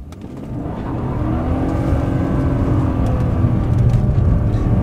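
A rear-wheel-drive BMW E36-era performance coupe accelerates hard with traction control switched off. The engine note builds into a loud, continuous rev that holds strong and close for several seconds.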